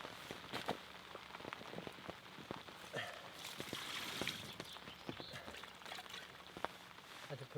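Heavy rain lashes down at a fishing lake in France, with a dense, steady patter of drops on a nearby surface and sharp individual splats, faint and close throughout.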